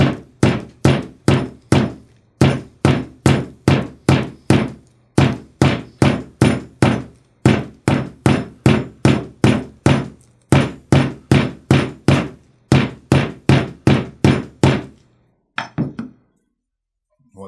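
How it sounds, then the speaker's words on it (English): A regular hammer taps lace flat on a granite slab, striking in a long, steady run of sharp, ringing knocks. The blows come in quick, evenly spaced groups with brief pauses, close and loud, and end in a few faint clatters. "take a regular hammer and tap that"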